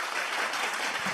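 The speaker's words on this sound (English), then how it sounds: "let's give them another round of applause" An audience at a club meeting gives a round of applause for an honoured couple, steady dense clapping throughout the brief moment.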